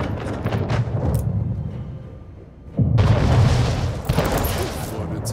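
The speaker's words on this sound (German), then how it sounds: "Schiff unter Beschuss" A ship takes cannon fire in the Anno 1800 video game as heavy booms and explosive bursts thunder in waves, briefly easing before a fresh loud barrage, with a voice speaking over the battle.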